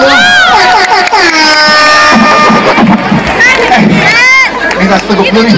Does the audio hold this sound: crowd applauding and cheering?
yes